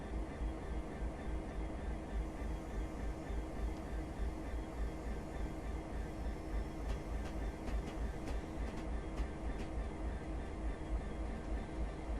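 A freight train in the video game Train Simulator Classic rolls along steadily, its wheels giving a soft rhythmic clatter over the rails beneath a constant low rumble, fairly quiet.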